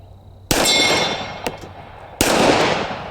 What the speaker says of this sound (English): But let's shoot a little bit and see if I can hit anything with it.